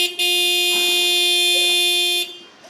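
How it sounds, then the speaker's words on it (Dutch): Car horn pressed by an impatient little dog, one long steady honk sounding loud for about two seconds, then cutting off to quiet. "Als zij te lang op haar baasje moet wachten, drukt ze gewoon de toeter in."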